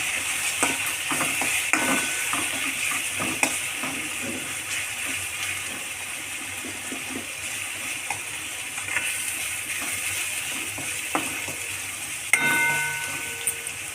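A spoon stirs turmeric and salt through potato and mutton curry in a pan, with a continuous soft scraping and sizzling texture and occasional clicks of the utensil against the pot, no voices.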